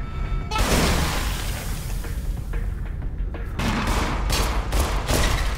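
Rapid bursts of gunfire from the video game In Sound Mind, loud and close, with repeated sharp shots running through the whole stretch and a heavier cluster near the end.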